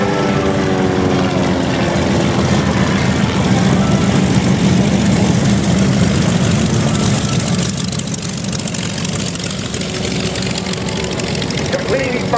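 A propeller airplane drones loudly overhead while flying aerobatics such as a hammerhead stall turn at the 2014 Houston air show, its engine note rising and falling under a commentator's voice over the PA.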